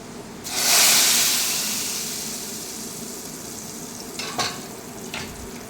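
Onion and chili powder hit hot oil in a pan for a prawn mango curry and burst into a loud, close sizzle that fades to a steady hiss, with a few clinks of stirring and no talk.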